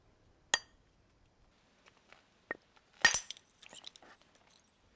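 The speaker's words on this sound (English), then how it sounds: "the strike is transmitted through a short point made of antler" A single sharp flint-knapping strike, flint hit through a short antler punch, lands as a crisp clink early on, followed by fainter taps and a louder cluster of clicking, crunching knocks near the end, all close and quiet.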